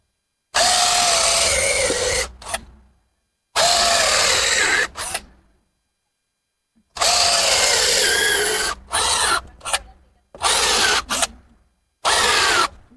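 Power drill driving long screws into wood for a mini bar build, in loud sustained bursts of a few seconds each, separated by short pauses and brief stuttering trigger pulses, close up with no talking.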